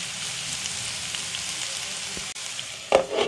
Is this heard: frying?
yes